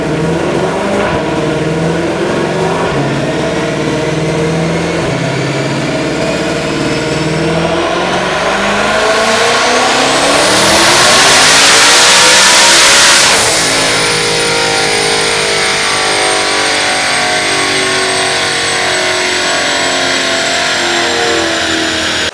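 A twin-turbo Shelby GT500 on a dyno pull with boost set, about 1,200 horsepower: loud, close engine revving that climbs steadily in pitch to a screaming peak, then drops away with turbo whoosh, with no talk.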